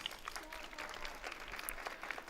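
A crowd in Venice applauds Pope Francis as he is wheeled toward a prison chapel, the clapping faint and distant but continuous throughout.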